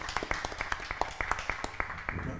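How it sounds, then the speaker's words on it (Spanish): Scattered audience applause after a presentation on digital humanism: a quick run of crisp, irregular handclaps at moderate level, with no talking over them. "Vamos, eso, un aplauso, claro que sí."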